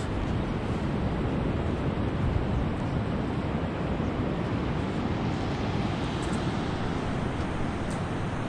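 Waves and wind on South Ballina Beach, a continuous broad roar of surf mixed with gusty wind buffeting the microphone, steady and fairly loud without distinct breaks or voices.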